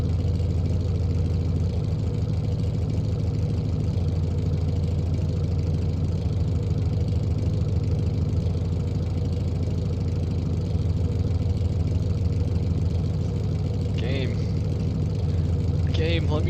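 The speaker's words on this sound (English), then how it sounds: "Game, let me turn down the volume of my car." A car engine from the game Automation drones loudly and steadily at idle with a deep, constant hum throughout, a few brief higher blips near the end.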